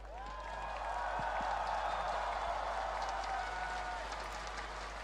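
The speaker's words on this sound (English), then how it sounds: "A round of applause for Shovi." Crowd applause at the MSI 2025 esports finals: steady, fairly faint clapping and cheering that swells slightly and holds throughout, with a tonal ringing above it.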